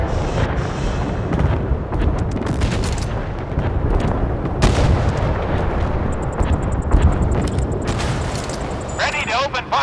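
Naval gunfire in the Force of Warships video game: repeated loud booms and blasts from warship guns crowd the whole stretch, dense and continuous, with short radio-style voice lines mixed in.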